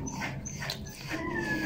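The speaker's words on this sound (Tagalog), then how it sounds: "Yun yung aso ko." Dog whimpering with thin, high yips and whines, close and fairly quiet, in a short continuous stretch.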